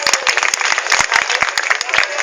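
Dense, sustained audience applause fills the space, many hands clapping at once in a continuous loud patter with sharp individual claps poking through, no voices on top.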